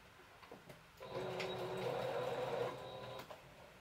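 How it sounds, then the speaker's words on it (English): A sewing machine stitches back and forth across a cloth pad in one steady, fairly loud whirring burst of about two seconds, with a few faint clicks and handling sounds before and after. "I'm going to just sew a little bit in there, back and forth"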